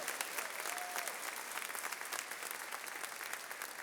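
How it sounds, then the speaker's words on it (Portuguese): Sustained applause from a large church congregation, a continuous wash of clapping heard from a distance at moderate level. "Você pode dar mais uma salva de palmas para Jesus"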